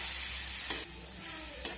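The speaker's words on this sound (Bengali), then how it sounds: "এখন আমি এর মধ্যে দিয়ে দিচ্ছি সামান্য জল, দিয়ে সব কিছু মশলা ভালো করে কষিয়ে নেব।" Turmeric and other ground spices cooking in a pan with a splash of water give a steady hiss of frying, broken by two sharp scrapes of a spoon stirring the mixture.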